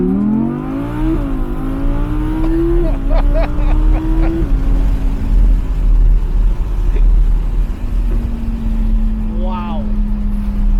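A 2020 Audi R8 Performance with its naturally aspirated V10, loud and close, revving through rising gear pulls with shift breaks, then settling into a steady drone before a brief blip near the end.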